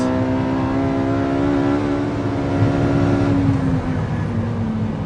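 A sports car accelerates hard down a racetrack straight during a Car of the Year 2014 test. The engine drone climbs steadily for several seconds, then drops briefly at a shift and pulls again, loud and close from inside the cabin.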